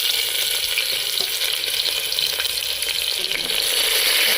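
Onions sizzling steadily in a hot pan with crushed cardamom, cinnamon and cloves, a loud, even, continuous fry heard alone throughout.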